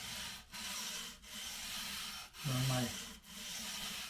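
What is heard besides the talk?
sanding guitar frets with 320 grit sandpaper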